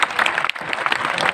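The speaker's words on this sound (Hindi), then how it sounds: "तालियां बजा के इसके सम्मान में इसका" Audience at a Hindi comedy poetry gathering claps in honor of a young poet, a brief, lively burst of close, crisp applause with a few scattered shouts.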